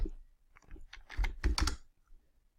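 Typing on a computer keyboard while entering a report in accounting software: a quick cluster of close key clicks, sparse at first and then denser in the middle before tapering off, with no voices.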